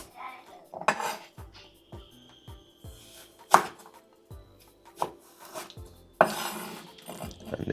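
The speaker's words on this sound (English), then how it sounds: "So the carrot now, just going to cut those into nice strips." A kitchen knife slices a carrot into strips on a board, giving a series of sharp, evenly spaced chops and knocks, close and distinct, with a few scraping sounds between cuts.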